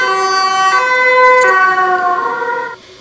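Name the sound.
ambulance siren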